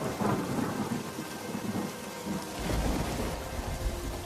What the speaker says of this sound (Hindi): और बारिश शुरू हो गई।